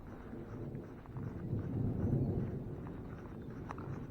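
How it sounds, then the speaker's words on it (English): Thunder from a passing thunderstorm after a torrential downpour outdoors: a low, rolling rumble that swells to a peak midway, then settles into a steady, distant grumble, with no voices. "Yeah, that's lightning."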